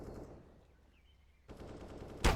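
AK rifle fire in Counter-Strike on the Inferno map: a short burst of shots after a quiet moment, then a louder crack of gunfire at the very end, with no voices.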